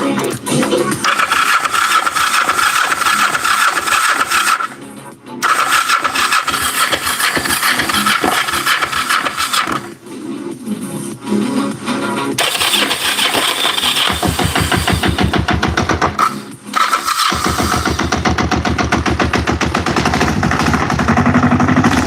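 A motorcycle engine being started repeatedly: loud, close sputtering bursts and rapid pops, several short drop-outs as it dies and catches again, then settling into a rough, uneven run.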